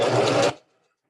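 A Facilita Pro sewing machine runs a brief burst of fine stitching at a 0.3 stitch length, a close whirring clatter that stops abruptly after about half a second.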